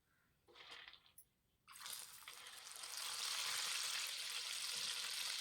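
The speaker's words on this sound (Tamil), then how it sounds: "இப்போ மீதம் இருக்க பச்சைப்பயிரையும் இதோடைய போட்டு பொரித்து எடுத்துடலாம்." Soaked green gram (moong dal) dropped into hot oil and deep fried, starting with a few brief splashes and then a steady, loud bubbling sizzle that builds and holds with no voices.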